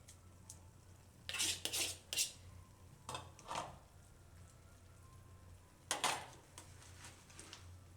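Dill greens tipped into a cooking pot for a Gujarati mixed-greens ghuto, heard as several soft rustling thumps and clinks against the pot in a quiet kitchen, grouped in short bursts.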